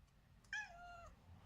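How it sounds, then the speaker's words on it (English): A domestic cat gives one clear, close meow lasting about half a second, rising and then gently falling in pitch, over a faint low background hum. "Jackie, this is my cat"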